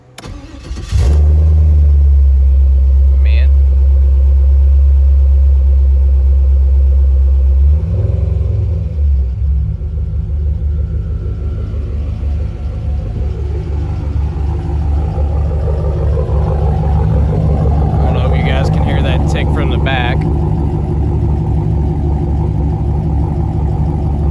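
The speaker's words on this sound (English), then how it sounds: "it sits there and it idles at about plus or minus around 700 RPM ish right now" A V8 engine swapped into a Nissan 300ZX cranks and fires up, then settles into a deep, lumpy idle around 700 RPM that rumbles steadily, with a brief word spoken over it.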